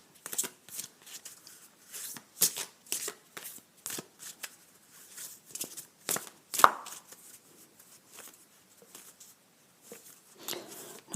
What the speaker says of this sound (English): We will keep shuffling.